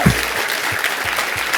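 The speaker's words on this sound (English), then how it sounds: "That's your applause." Applause from the audience at a hackathon closing ceremony, a steady wash of clapping with a few low thumps, moderately loud and continuous through the short moment.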